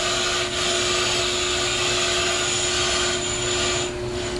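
A brake lathe cuts a thin pass across a brake rotor in a workshop, a steady, continuous whirring hum with a faint high metallic whine, unbroken for about four seconds.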